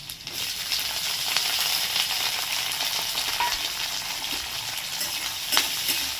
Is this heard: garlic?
yes